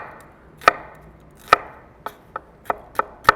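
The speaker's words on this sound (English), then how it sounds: "We've got red and green bell peppers and some yellow onion that we need to get sliced up." A knife slicing red and green bell peppers and yellow onion on a cutting board, with sharp, distinct chops at an irregular, unhurried pace and quiet pauses between cuts.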